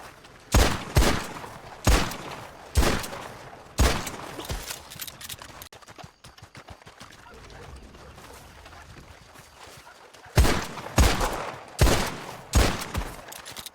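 Gunfire from a headshot demonstration in the video game Red Dead Online: sharp single shots in a quick series of about five, a pause, then another cluster of shots, loud and close with quiet ambience between.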